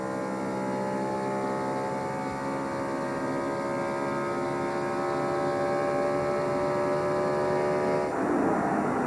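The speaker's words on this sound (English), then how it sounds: "I hear that engine building those RPMs as he goes down these long straightaways" Onboard a NASCAR stock car at the 2000 Brickyard 400, the engine drones loud and steady down a long straightaway, a sustained high-revving tone that shifts slightly near the end.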